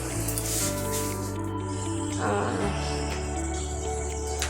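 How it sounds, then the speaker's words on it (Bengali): Whole cardamom, cinnamon, cloves and bay leaf sizzle in hot refined oil, a steady hiss and crackle running through the whole stretch over a constant tonal background, with no talking. "এরপর রিফাইন অয়েল দেওয়ার পর আমি এর মধ্যে গোটা মশলা দেব"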